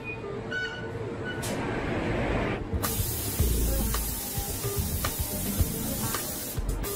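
Spray gun hissing as paint is applied to a car part inside a Koenigsegg spray booth, a steady close broad hiss with short bursts over a constant booth ventilation rumble.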